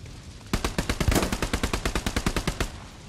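A rapid burst of automatic gunfire in the WWII shooter Hell Let Loose on Omaha Beach, about twenty evenly spaced loud shots in a steady rhythm with no talk.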